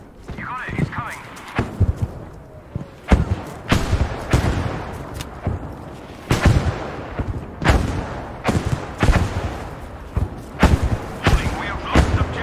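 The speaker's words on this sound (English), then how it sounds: "Artillery barrage, soldier, right away." In the video game Battlefield V, artillery barrage explosions land as repeated heavy booms and thuds at irregular intervals, mixed with gunfire and game voices over constant battle noise.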